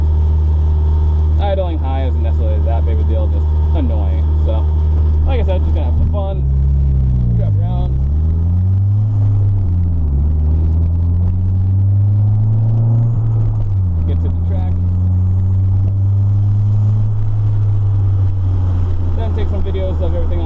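A Mazda Miata engine idles high, a steady loud rumble that dips and rises a few times as the revs shift, with someone talking over it.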